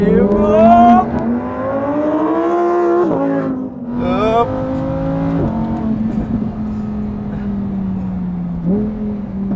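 Lamborghini Huracan Evo engine revving hard while drifting in second gear, loud repeated climbing revs with gear changes and dips, close and dominant throughout.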